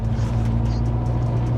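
A Volkswagen Mk5 Golf GTI engine drones steadily as the car cruises along, a continuous low rumble with road noise and no talking.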